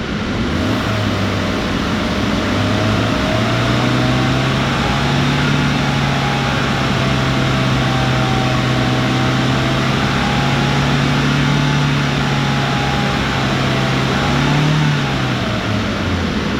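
A car engine idles steadily and then climbs to a higher, harder-working pitch as the accelerator is pressed, with a mild drop near the end. The car has a cabin heater that is not producing heat. No one speaks.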